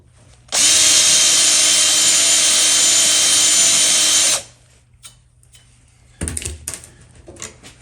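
A power drill countersinks a screw hole in a motorcycle exhaust baffle, whirring loudly and steadily for about four seconds, then stopping; a few scraping handling knocks follow.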